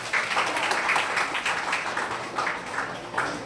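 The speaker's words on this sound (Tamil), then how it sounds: "கைத்தட்டுங்க." An audience at a Sunday mass prize-giving claps steadily and fairly loudly, many hands blending into a sustained patter that swells in several waves for a few seconds.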